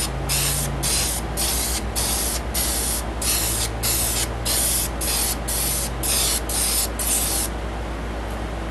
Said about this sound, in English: can of spray through the front and back